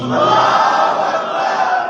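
Crowd at an Eid Milad gathering in an imambargah roaring a chanted slogan response in unison, a loud, full burst of many voices sustained for under two seconds.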